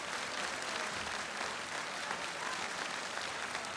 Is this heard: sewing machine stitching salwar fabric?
no